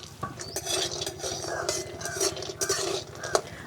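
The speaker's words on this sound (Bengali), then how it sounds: "এখানে আমি নিয়েছি চিনেবাদাম। চিনেবাদামটা ভালো করে ভেজে" Peanuts roasting in a little oil in a wok are stirred briskly, giving a dense rattle of nuts and the scrape and clink of the spoon against the metal over a faint sizzle.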